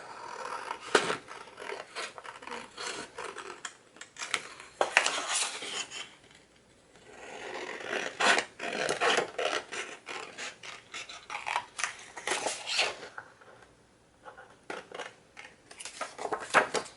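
Scissors cut through patterned paper in repeated crisp snips and slicing rasps, close up, in bursts broken by short pauses, with no talk.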